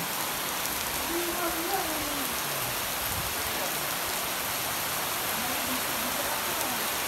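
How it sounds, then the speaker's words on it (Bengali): Heavy rain pours steadily over the flooded Joshai market, a dense, continuous wash of hiss and patter that stays loud throughout, with faint voices murmuring beneath. "প্রচুর বৃষ্টি।"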